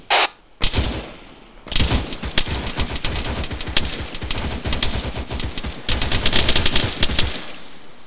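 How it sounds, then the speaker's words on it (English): Sustained automatic machine gun fire in ARMA 3, rapid loud bursts rattling almost continuously with brief pauses between volleys. "there's a machine gunner east of my paws"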